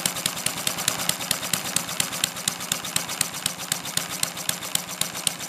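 A small model flathead internal combustion engine with a muffler runs steadily at medium speed, its rapid, even firing pulses close and continuous throughout.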